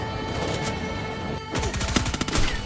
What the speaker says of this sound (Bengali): ওই যে রিচের মধ্যে থেকে স্নাইপার চালাচ্ছে।